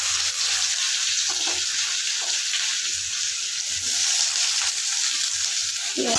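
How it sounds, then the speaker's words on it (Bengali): Onions sizzle in hot oil in a pan with dried red chillies and nigella seeds, a steady hiss throughout with occasional soft stirring clinks and no talk. "পেঁয়াজগুলো একটু ভাজবো"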